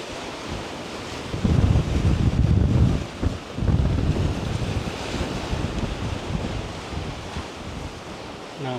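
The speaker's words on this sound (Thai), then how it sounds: "ชื่นชมกับธรรมชาติเสียงคลื่น" Strong wind drives waves against the rocky coast at Khao Laem Ya, Rayong, a close, rushing surf with heavy buffeting surges early on that ease into a steadier wash.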